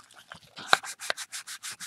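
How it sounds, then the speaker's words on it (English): Sandpaper rubs back and forth over layered paint on a painted heart artwork, giving close, regular rasping strokes that quicken into an even rhythm. "sanding through my colors and seeing some different colors underneath"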